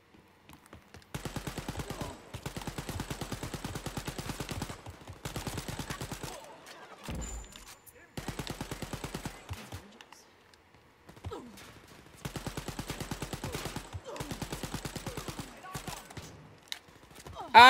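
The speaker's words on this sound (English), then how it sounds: "There's a lot of bullets flying around." Wolfenstein: Youngblood gunfire arrives in several long automatic bursts of rapid, evenly spaced shots, each lasting a second or two and separated by short quiet gaps.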